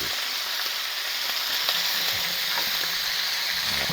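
Steady, close sizzling of pork on a hot grill, a continuous crackling hiss with faint pops and no talking.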